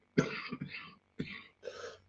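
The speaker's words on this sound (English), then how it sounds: "Sorry about the cough." Two rough coughs, each a sharp burst followed by a shorter hack, separated by a brief pause; close and fairly loud with no talking.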